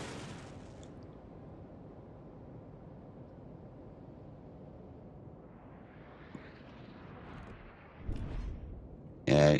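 Naval artillery shells from a battleship in World of Warships: Legends, a faint low rumble of distant gunfire under a steady hum, rising into louder booming impacts near the end.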